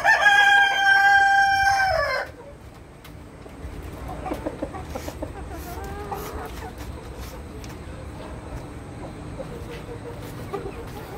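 On a poultry farm, a rooster crows loudly up close for about two seconds, followed by quieter scattered clucking from hens under a low background hum.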